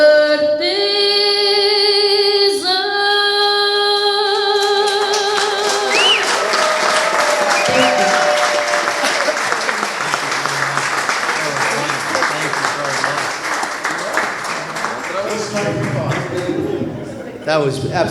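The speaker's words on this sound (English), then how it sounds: "Let's give another round of applause." Audience applause breaks out at a Cape Verdean flag raising at Brockton City Hall as a sung song ends, the final held notes fading into a broad, steady wash of clapping from a crowd that continues to the end.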